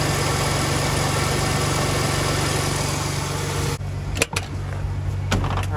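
A 1994 Ford 4.9-litre 300 inline-six truck engine idles steadily and close for several seconds, then shuts off, leaving a few clicks and knocks in near quiet.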